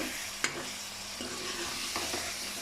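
Mashed onions fry in a pot for aloo gosht, holding a soft, even sizzle throughout, broken by a sharp utensil tap early on and a couple of faint stirring scrapes.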